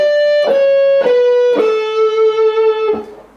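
Bright sustained guitar notes played as a descending major scale, four clean picked tones stepping down one after another, the last held and ringing before it fades, close and alone.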